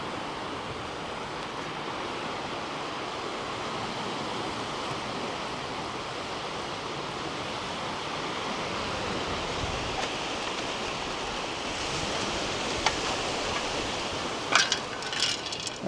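Sea waves wash onto a Scottish beach in a steady, continuous roar of surf, close and broadband, with a few faint clicks and taps near the end.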